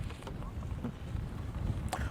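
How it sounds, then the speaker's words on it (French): Strong outdoor wind buffets the microphone in Paraguay, a steady low rumble with gusty swells and a few brief knocks throughout. "Il y a beaucoup de vent, j'espère que sur l'audio, ça ne va pas vous embêter."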